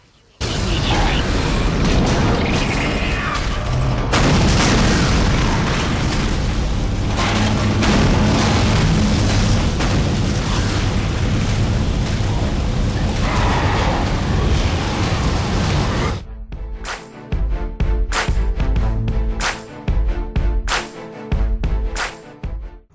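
Explosions in the sci-fi horror video game Dead Space: a loud, sustained roar of booming blasts and rumbling debris that fills the sound for about sixteen seconds, then breaks into choppier mechanical impacts and crackles.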